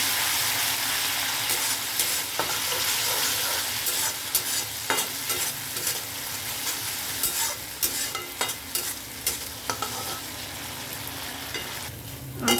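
Ridge gourd peel paste with turmeric, salt and water simmers in a pan over medium-low heat, a soft steady sizzle broken by repeated scraping strokes of a spoon stirring it.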